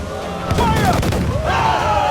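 Ship cannons firing in the Assassin's Creed Freedom Cry video game, a loud dense barrage of booming blasts with a rumbling low end and overlapping impacts over a couple of seconds, under a busy wash of naval battle noise.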